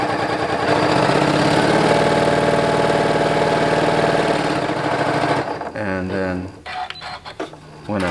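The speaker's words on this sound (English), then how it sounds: "I would go around the outside of my project and do an 1/8 inch top stitch" Sewing machine running an eighth-inch top stitch around the edge of a finished quilt, a loud continuous mechanical hum that stops partway, followed by a voice speaking.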